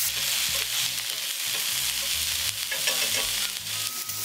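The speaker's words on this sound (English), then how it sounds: "add the drained Goya and stir fry them together" Loud, steady sizzling of drained goya bitter melon being stir-fried with pork in a hot pan, with scraping and tossing from stirring over a constant crackle.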